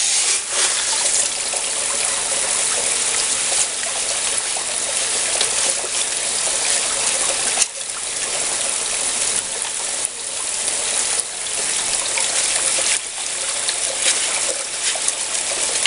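Water from a 1,000 gallon per hour pump runs steadily through a DIY fluid bed sluice box with a magnetic gold trap, a continuous close trickling and splashing rush with faint rattling, no talk.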